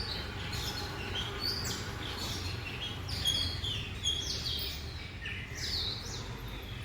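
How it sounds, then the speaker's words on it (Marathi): Small birds chirp faintly at a Hanuman temple in the morning, with scattered, thin twittering calls spread over a steady outdoor background hiss. "पक्ष्यांचा किलबिलाट."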